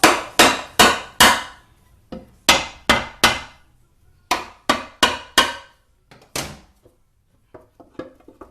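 Hammer taps knocking a 4T40-E automatic transmission pan loose from its guide pins, a series of sharp metallic raps in quick bursts of two or three with short pauses, close and loud, ending in lighter clinks.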